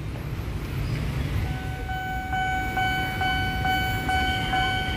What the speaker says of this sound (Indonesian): Wah, ini sekalinya datang langsung dua nih lokomotifnya nih.